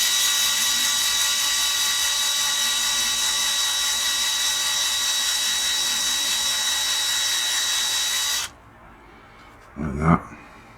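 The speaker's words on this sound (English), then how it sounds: "get it started, and just drill a part out." A small electric drill, dentist-drill-like in tone, bores into a Corgi die-cast model car, giving a loud, steady high-pitched whine for about eight seconds, then cutting off; a brief burst of handling noise follows near the end.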